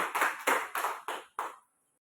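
Applause at a school dissemination meeting on positive school culture: five short bursts of clapping from a small group, each swelling and fading, the last trailing off into silence.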